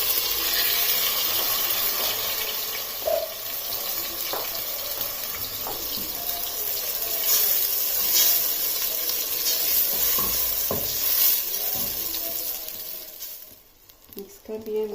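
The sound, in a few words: onion, garlic, ginger paste frying in oil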